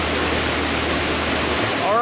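Auger Falls, a waterfall dropping through a small canyon in Newry, Maine, roars as a steady broadband rush that holds constant throughout, loud and close, with no voices over it.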